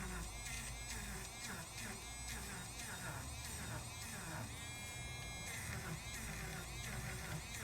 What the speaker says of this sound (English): I could be taking my Dremel and just getting rid